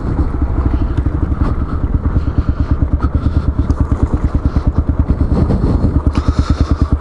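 Kawasaki KLR motorcycle engine running at low speed, a loud, close, rhythmic thumping exhaust pulse that holds steady and rises slightly toward the end, with no talking.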